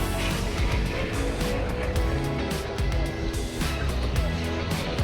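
A white and black Camaro and a black and gold Mustang race on a track, engines roaring loud and continuous with rising and falling gear changes and tire noise, no one speaking.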